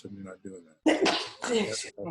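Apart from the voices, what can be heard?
sneeze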